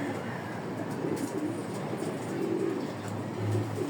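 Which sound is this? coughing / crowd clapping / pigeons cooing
pigeons cooing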